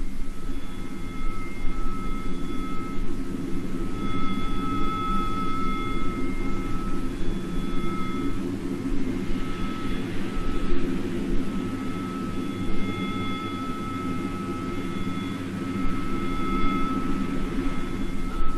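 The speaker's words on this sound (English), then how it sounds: "this film of planes being shot down on the same day" Military jet aircraft attack over Falkland Sound during the 1982 Falklands war, filmed from a frigate, with a steady, heavy engine roar and a faint whine that swell slightly in the middle.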